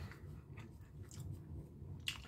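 Dry roasted peanuts with sea salt being chewed close up, a soft steady crunching and mashing of a mouthful with one sharper bite near the end, no talking.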